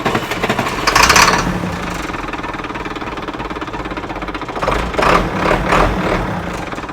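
A donor engine for a pulling tractor cranks over with a loud, steady mechanical churning and knocking, rising in two brief surges.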